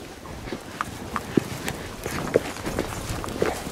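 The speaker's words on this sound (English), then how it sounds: "Ooh, my horses are leaving." Horses walk away across rough mountain ground in elk country, their hooves giving irregular clip-clopping thuds, moderately close and fading slightly, with some background rustle.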